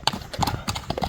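A purebred horse's hooves clip-clop in a quick uneven run of close, sharp strikes over about a second, with no one speaking.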